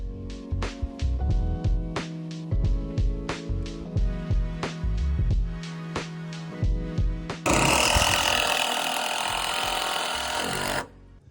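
Screws driven with a power driver into boards laid over Lexel adhesive to hold them flat: close, rhythmic bursts of whirring and knocking, then a sustained loud grinding whir near the end.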